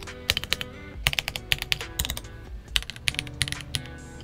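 Typing on a RoyalAxe x ProtoArc R68 mechanical keyboard, a 65% three-mode board with a knob, gives quick bursts of crisp clacky keystrokes with short pauses, close up and with no speech.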